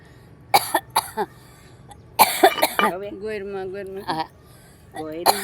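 Several sharp, harsh coughs burst out close and loud in two clusters, followed by a woman singing a devotional Gujarati song of worship.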